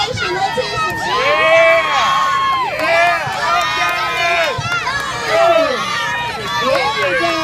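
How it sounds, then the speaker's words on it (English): Lively crowd of children and spectators cheering and shouting at a tween and teen ice cream eating contest at a children's carnival, a busy clamour of high voices rising and falling under steady talk. "Let's hear some crowd participation. Let's hear some cheers."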